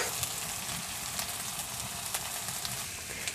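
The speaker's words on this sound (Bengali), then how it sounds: "সব মশলাগুলো ভালো করে কষে নিয়েছি" Spices with tomato, salt and turmeric fry and get stirred in a pan for village-style egg curry, giving a continuous close, hissing sizzle with faint scrapes and no talking.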